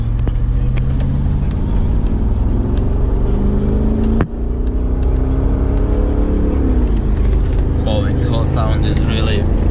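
Engine and exhaust of a rebuilt Brabus 6x6 Mercedes-Benz G-Wagon running, a loud, steady deep drone with a rising rev partway through and a brief dip, continuous across the whole stretch.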